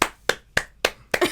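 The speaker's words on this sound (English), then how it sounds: "I got to clap for this nigga" Five sharp hand claps in an even rhythm, close and crisp, each one isolated with short gaps between and no talk.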